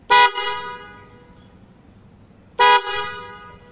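Two loud, bright trumpet horn blasts from a Honda Dio scooter, a couple of seconds apart, each short and brassy with a ringing tail, sounding close by.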